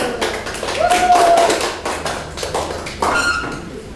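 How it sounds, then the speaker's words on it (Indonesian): Classroom applause for a student group, a burst of many hands clapping under a teacher's voice, steady through the stretch and swelling again near the end. "Tepuk tangan lagi buat kelompok 1."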